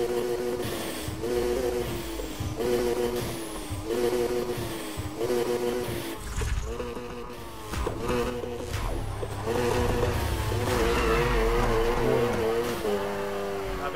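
A 2019 Nissan 370Z Heritage Edition engine accelerates in the racing video game Need for Speed Heat, its steady drone running under loud rhythmic game music for the whole stretch.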